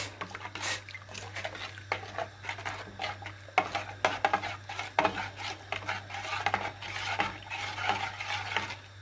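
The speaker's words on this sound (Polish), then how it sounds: "mieszamy wszystko" A spoon stirs cheese soup with dill in a pot, scraping and clinking steadily against the metal in a close, continuous rhythm.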